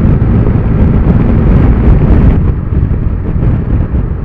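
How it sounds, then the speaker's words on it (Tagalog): Heavy, constant wind buffeting the microphone on a riding Bajaj Dominar 400 motorcycle, a loud low roar with no breaks. "Ang lakas ng hangin, baka hindi nyo lang ako marinig."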